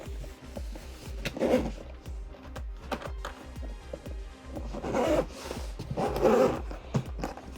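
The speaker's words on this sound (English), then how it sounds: "to transport it, don't forget to zip it completely closed" Zipping a BOBOVR C3 carrying case for an S3 Pro head strap fully closed: a series of rapid rasping zipper pulls in several longer strokes, with small ticks and handling rubs between them, close and fairly quiet with no talking.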